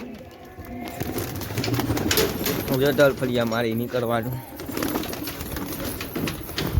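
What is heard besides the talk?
pigeons cooing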